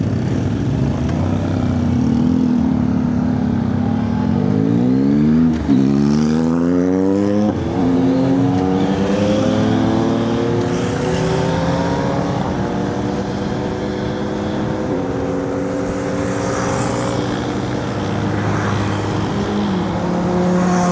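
A pack of big motorcycles revs together at a traffic light on a road trip in southern Thailand, loud overlapping engine notes climbing and falling in repeated rising sweeps, close by, with no talking.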